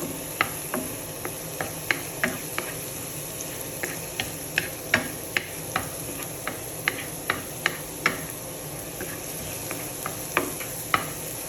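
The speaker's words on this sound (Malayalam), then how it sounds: "ഇഞ്ചി വെളുത്തുള്ളി പച്ചമുളകിൻ്റെ മിക്സ് നമുക്ക് ചേർത്ത് കൊടുക്കാം" A ginger, garlic and green chilli mix frying in a pan with onions and curry leaves, a steady sizzle punctuated by regular sharp clicks of a spoon stirring against the pan, close and without talking.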